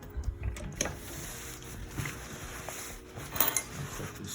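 A sewing machine backstitches a welt pocket with a close, busy mechanical whirr and clatter, the rhythm surging and easing as the stitching reverses.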